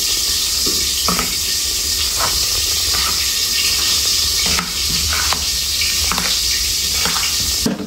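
Raw green banana kofta mixture with ginger paste, cumin and salt being stirred by hand in a bowl, giving soft repeated wet squelches and light clicks over a steady background hiss, with no voices.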